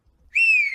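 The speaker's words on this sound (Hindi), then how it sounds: "सास को देखते ही दोबारा सीटी बजाने लगती है।" A woman whistles a single clear, sustained note that starts abruptly after a quiet moment and holds steady to the end.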